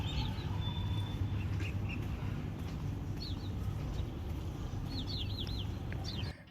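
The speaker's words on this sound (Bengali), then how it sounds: "তোমরা পাখির ডাক শোনো।" Birds calling during a morning walk around a housing society: faint, distant chirps and short trills that come and go over a steady background hum, with no talk.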